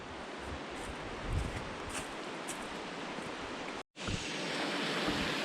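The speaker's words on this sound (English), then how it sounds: "here's that waterfall I heard" Constant roaring rush of a waterfall, broadband and close, with a brief cut near the end before the roar resumes.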